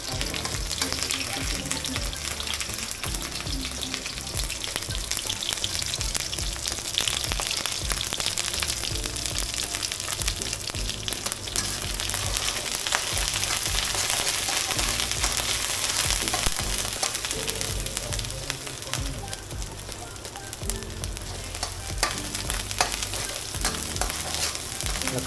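Thai chili curry paste stir-fries in hot oil over low heat for a pork chu chee with long beans, giving a dense, continuous close sizzle with scraping and stirring throughout.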